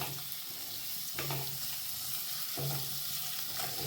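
Onions and tomato frying in a pan with whole spices such as cinnamon, cloves and peppercorns produce a soft, continuous hiss with a steady low tone and faint stirring scrapes, quiet and close.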